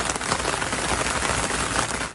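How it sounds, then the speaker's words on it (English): Rain patters steadily on a surface in a dense, even wash of drops, fairly loud and continuous, with no voices. "Patter."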